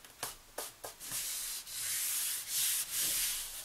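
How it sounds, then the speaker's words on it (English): Paper for a folio album is burnished flat with a tool. A few short rubbing strokes come first, then longer continuous close-up scraping passes, loud and alone. "Burnish it down."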